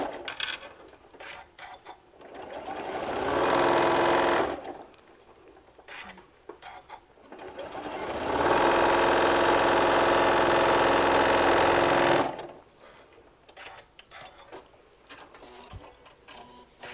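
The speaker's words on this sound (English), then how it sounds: "I'm probably sewing sometimes a little bit more than 1/4 of an inch just so I can catch it all" Sewing machine stitching a walker bag in two bursts of steady rapid whirring, the first about two seconds and the second about four seconds, each ending abruptly, with quiet handling clatter between them.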